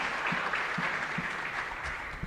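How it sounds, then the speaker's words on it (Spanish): A congregation applauds inside Capilla Santa Elena chapel in Lambaré during Mass, a steady, dense patter of many hands filling the room without a break, with a few low thumps beneath. "Fuerte aplauso entonces para todos."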